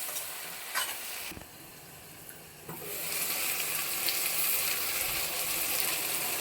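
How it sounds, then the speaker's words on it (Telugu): Brinjal pieces fry in a covered pan with a continuous, close sizzle that dips briefly and then swells louder, with a few faint clinks and no talking. "ఇప్పుడు మూత పెట్టుకుని వంకాయ ముక్కల్ని అయితే పగ్గించుకోవాలి"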